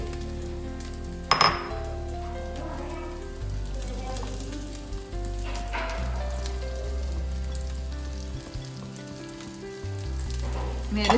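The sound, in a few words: shallots frying in a pan for fish curry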